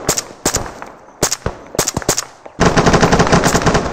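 Squad rifle fire in the ArmA3 military game, sharp close cracks in short irregular bursts with brief gaps, then a sustained rapid automatic volley in the final stretch, with no talking.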